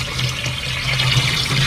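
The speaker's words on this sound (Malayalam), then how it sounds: "3 ലിറ്റർ ഇട്ടാ വെള്ളം ഒഴിക്കുക" Three litres of water poured into a container for a grape wine recipe, a steady, close, continuous trickling stream that runs alone throughout.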